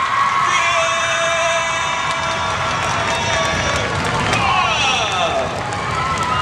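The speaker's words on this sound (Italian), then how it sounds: "l'applauso delle scuole" A school audience applauds and cheers at a singing performance, a dense, loud wash of clapping and shouting voices that keeps going without a break, with children's cries rising above it.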